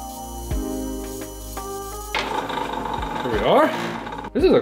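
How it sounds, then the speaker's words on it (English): Drill with a Forstner bit milling out a hole in wood for a water-cooled wood bead tumbler, a rising whine that bites into the wood with grinding surges, after some lighter tapping and handling noises. "I'm gonna use my Forstner bit and just essentially mill out the hole"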